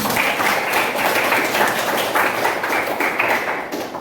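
A room full of people claps together in steady, dense applause that keeps going at an even level throughout.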